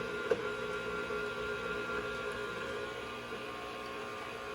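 A hand-cranked pasta machine rolling pasta dough thinner, a faint, steady mechanical whir and hum with a soft knock near the start, continuous and without speech.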